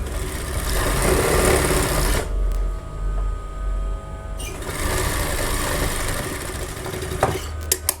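A sewing machine stitches a lined strip onto a blouse collar, running in a steady loud whir that pauses briefly midway, then resumes and ends with a few clicks.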